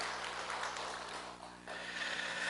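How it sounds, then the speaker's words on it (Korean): A church congregation claps in thanks during a Sunday morning service, a steady wash of many hands that briefly dips midway and then resumes, with no talking over it. "그동안 수고하셨던 우리 권사님께 감사의 박수 한번 하시겠습니다."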